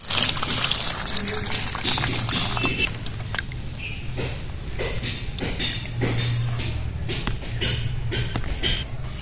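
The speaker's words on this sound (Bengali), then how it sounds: "এবার কমলা লেবুগুলো জল দিয়ে ভালো করে ধুয়ে নেব।" Oranges get washed under running water, a continuous splashing pour with occasional knocks and clatter of the fruit, close and loud throughout.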